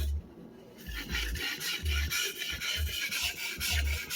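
A restored sujihiki knife is honed on a whetstone in slow, repeated rubbing strokes. The scraping sound is faint and close, with no voices.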